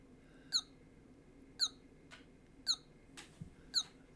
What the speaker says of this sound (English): so there's our chirps, and it's chirping away, preparing the two players to get ready to push the buttons